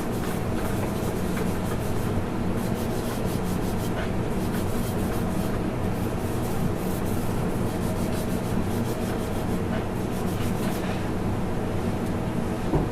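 A hand rubs oil into the very light-colored wood of a PRS McCarty 594 guitar to darken it, making a steady, close, continuous rubbing and swishing texture with no pauses.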